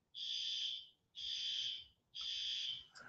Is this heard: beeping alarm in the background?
yes